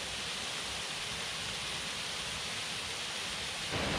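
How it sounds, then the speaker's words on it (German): Lichtenhainer waterfall in Saxon Switzerland's sandstone mountains, a steady, loud broadband rush of falling water that fills the whole clip without pause or voices. "das ist der sogenannte Lichtenhainer Wasserfall."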